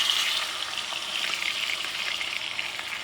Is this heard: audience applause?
no